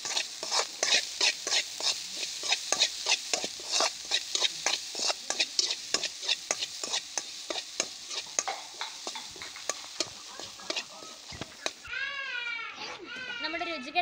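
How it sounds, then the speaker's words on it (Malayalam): A spoon stirs spice paste into a jackfruit leaf stir-fry, scraping the pan in quick rhythmic strokes over a light sizzle, followed near the end by children's voices. "നന്നായി ഇളക്കി കൊടുക്കാം"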